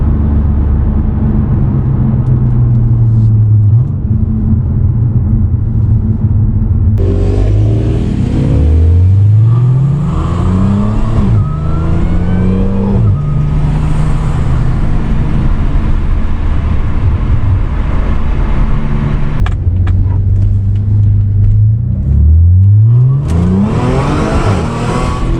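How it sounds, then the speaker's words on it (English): Modded supercharged Audi S4 pulling hard, engine note climbing through several gears with a supercharger whine riding on top, loud and continuous from inside the car with brief shift dips between rising sweeps. "That supercharger noise,"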